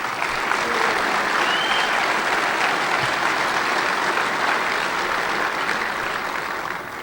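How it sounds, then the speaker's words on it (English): An audience at the DEF CON 14 hacking conference applauds during an award ceremony, with dense, sustained clapping from a large crowd that holds steady and begins to fade at the end. "please give yourselves a round of applause for putting on such a great con"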